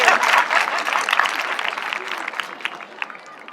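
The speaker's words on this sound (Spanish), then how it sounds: "Un aplauso para Martín." An audience in a lecture hall on education and ethics applauds a participant named Martín: dense, steady clapping that starts loud and gradually thins and fades over a few seconds.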